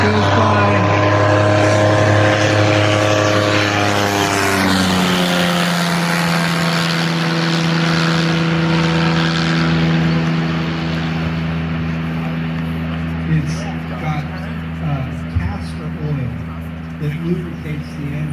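A loud engine drone sweeps past and fades, its pitch sliding downward as a propeller plane flies by, with voices faintly in the background.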